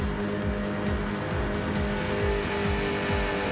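A race car engine roars at full throttle on the oval at Daytona in a racing video game, a loud, steady drone with repeated rhythmic pulses and a faint tire whine.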